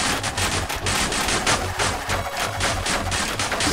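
Rapid video game gunfire in a fantasy dungeon crawler, dense bursts of shots rattling continuously at close range, loud and layered with a pulsing rhythm.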